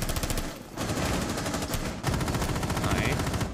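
Rapid automatic gunfire in Rainbow Six Siege, a dense, continuous burst of loud shots with a brief break partway through, close and dominant.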